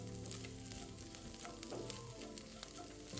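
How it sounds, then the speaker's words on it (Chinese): Minced shallots frying in hot oil in a wok, a dense continuous sizzle with crackling pops throughout, close and steady with no talk. "再将红葱末倒入爆香，一直油爆至葱末转金黄色"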